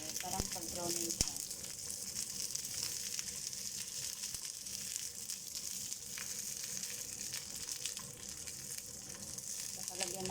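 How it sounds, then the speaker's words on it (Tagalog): Pork for kaldereta sizzles and crackles steadily in a hot pan, a dense hiss with occasional pops, and a voice murmurs faintly in the background. "Ipiprito ko lang tapos lagyan ng tubig ng konti, parang pag-browning siya."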